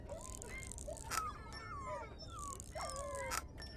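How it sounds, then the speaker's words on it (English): A sad dog whimpers and whines in the horror video game Don't be Afraid: The First Toy, repeated high, thin, wavering cries over a low, quiet background rumble. "Oh, I hear a sad dog."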